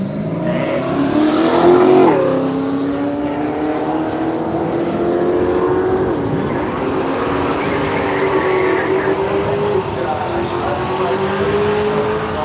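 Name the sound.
drag racing cars, Holden Torana versus Ford Capri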